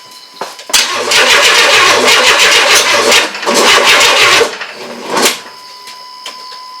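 An engine cranks and catches on its first attempt after being installed, with loud churning starter bursts, a brief pause, then another cranking burst and a short sputter before falling quiet.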